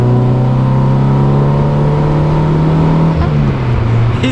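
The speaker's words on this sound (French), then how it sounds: "on va accélérer un petit coup pour voir ce que ça fait." Engine of a classic GTI hatchback, either a Peugeot 205 GTI or a Golf 1 GTI, pulls hard under acceleration from inside the car, a loud steady drone that climbs in pitch and then eases near the end.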